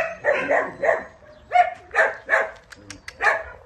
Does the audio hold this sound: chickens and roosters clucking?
no